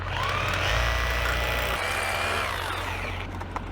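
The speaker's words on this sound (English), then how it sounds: "I got the big boy drill" A heavy rotary hammer drill runs steadily for a few seconds, a loud droning motor with a grinding edge that eases off near the end.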